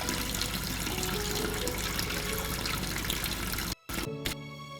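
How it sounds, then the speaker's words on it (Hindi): Water runs steadily from a tap into a sink, a loud continuous rushing splash that cuts off abruptly near the end and then returns briefly in short bursts. "पानी बह रहा था।"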